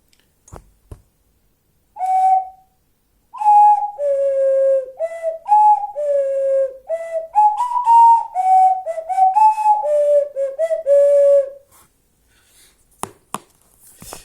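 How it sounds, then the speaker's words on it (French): A soft, breathy ocarina plays a gentle melody of sustained and stepping notes, solo and close, with a few clicks before and after. "cette petite vidéo tutoriel pour apprendre à jouer de l'ocarina"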